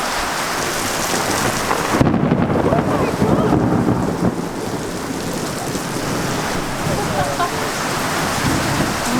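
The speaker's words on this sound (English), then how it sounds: "The rain is very wonderful, but the guttering needs fixing up here" Steady heavy rain falls on an outdoor shower area with a leaking gutter, a loud continuous hiss with a brief heavier burst early on, thunder rumbling beneath it throughout.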